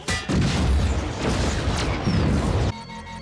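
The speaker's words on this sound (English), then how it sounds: "We about to blow it up." An explosion from a Mandalorian episode erupts as a loud, sustained booming rumble with crackling debris, lasting over two seconds before cutting off abruptly.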